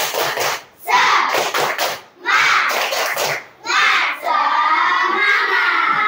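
Schoolchildren in a classroom perform a rhythmic clapping chant in unison, loud bursts of claps and voices in short phrases separated by brief pauses, ending in a sustained shouted chant.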